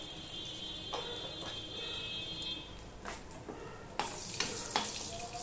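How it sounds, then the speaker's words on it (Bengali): Black cumin (kalonji) seeds sizzle steadily in hot oil while tempering for a kakrol dish, with a faint crackle and a few sharp stirring scrapes near the end. "এবার এর মধ্যে দেখো, এই কালো জিরেটুকু ফোড়নে দিয়ে দিলাম।"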